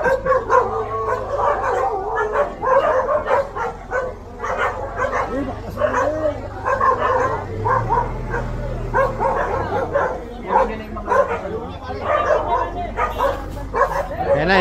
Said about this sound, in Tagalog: Aso sumasagot.